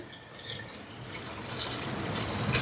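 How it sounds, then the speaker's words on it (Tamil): Coconut milk is poured into a cooking pot, a soft continuous liquid pour that grows a little louder and splashier toward the end, with no talk. "இனி இதுக்கு தேங்காய் பால் சேர்க்குறேன்."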